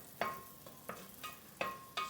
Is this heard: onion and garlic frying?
yes